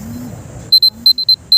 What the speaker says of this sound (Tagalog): Ito yung alarm.